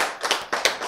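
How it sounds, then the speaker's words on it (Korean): Audience clapping during a Korean lecture, a short burst of several hand claps in quick, uneven succession, moderately loud and close, with no talk over it. "박수."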